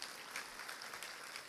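A church congregation claps together, a faint, distant wash of steady applause that carries on without pause.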